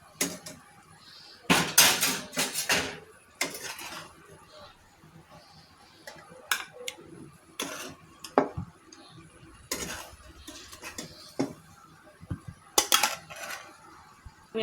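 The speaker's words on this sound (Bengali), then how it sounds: "সম্পূর্ণ মাছটা এভাবে উঠিয়ে নিলাম।" Fried katla fish pieces, including a large head, are lifted from a pan with a spoon. Sharp metal clinks and clatters of utensil against cookware come in scattered loud bursts over a quieter kitchen background.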